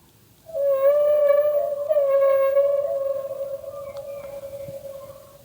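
Doly, a small robot pet companion, imitates a whale with a long, loud, wavering tonal moan that rises and bends, then a second drawn-out call that slowly fades, heard alone.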